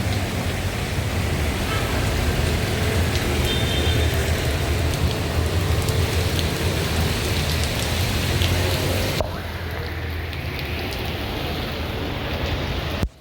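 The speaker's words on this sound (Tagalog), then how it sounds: "Lakas ng tulo ng tubig." Heavy rainwater drips and pours through a leaking building during a typhoon, a dense, steady hiss of splashing water that carries on throughout, slightly softer in the final seconds.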